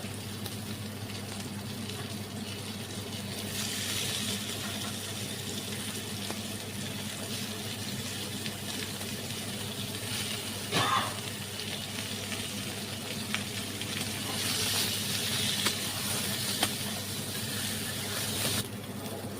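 Potatoes and ridge gourd frying in oil with a little turmeric, a steady soft sizzle and hiss throughout, moderately close, with a few brief clinks and stirring noises over the top.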